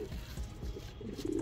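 Fancy pigeons, including Shirazi and fantail breeds kept alongside highflyers, coo softly and steadily throughout, close by, with no voices over them.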